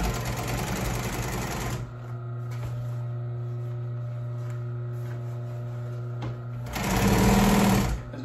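An industrial sewing machine stitching an upholstery cover runs in loud, fast bursts at the start and end. Between the bursts it idles with a steady motor hum and occasional clicks.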